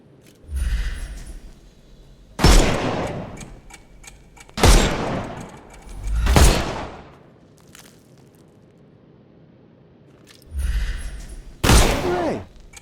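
Video game gunfire in Sherlock Holmes Chapter One as shots knock armour off enemies: sharp, loud bursts arrive in several separate volleys with quiet gaps between them, over a low background hum.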